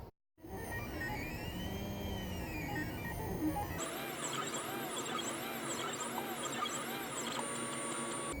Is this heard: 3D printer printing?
yes